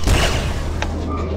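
Gunfire in a video game match, a heavy low blast at the start, then a sharp crack a moment later, with talk going on over the top.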